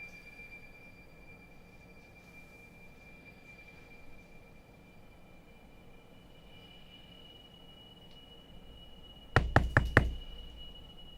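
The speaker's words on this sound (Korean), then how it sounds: "누군가 또 문을 두드렸습니다." A door is knocked on in a quick burst of four or five sharp, close raps after a long stretch of quiet, steady background hum.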